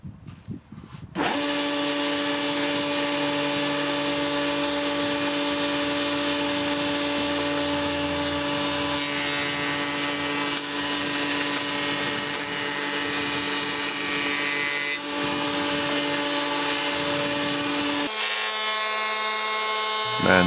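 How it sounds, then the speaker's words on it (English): Homemade jointer with nicked knives cutting along a board edge: a steady, loud whining motor hum with a continuous tonal drone and a rougher cutting texture that runs unbroken for most of the span, then cuts out near the end. "Now jointing the edge"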